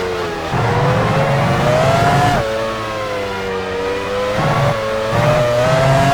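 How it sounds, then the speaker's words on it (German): A Formula One car from F1 Challenge 99-02, racing at Silverstone in the 2001 British Grand Prix, drives into the pit lane. The engine whines loud and steady, its pitch dropping and rising as it shifts gears and eases its speed. "Heidfeld fährt in die Boxengasse."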